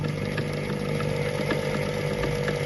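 A sewing machine runs steadily and loudly, stitching a wavy or scroll design in a continuous motor whir with no pauses.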